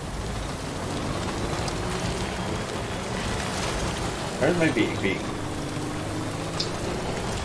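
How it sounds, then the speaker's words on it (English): Steady rain in the video game Death Stranding hisses throughout, a soft continuous patter, with a brief spoken question breaking through partway. "It's a little rainy."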